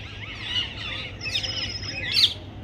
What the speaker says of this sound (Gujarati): એટલા બધા પોપટ બોલે નહીં